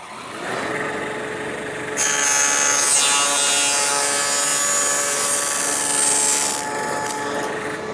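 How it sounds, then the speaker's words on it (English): Table saw fitted with a 3/4 inch wide dado blade, cutting a dado in wood: a loud continuous motor whine that rises and roughens as the stacked blade bites into the stock, then settles back. "set up the table saw with a dado blade, 3/4 inch wide"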